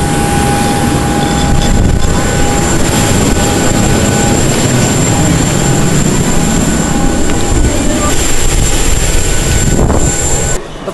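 Loud, steady roar of a passenger airplane cabin during landing, a broad rumbling wash with constant tonal whine that holds throughout and drops off abruptly at the very end.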